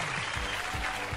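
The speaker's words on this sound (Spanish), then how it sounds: "un fuerte aplauso para el participante misterioso" An audience applauds a mystery participant on a Spanish-language talk show, a brief burst of crowd clapping heard alongside low rhythmic thumps.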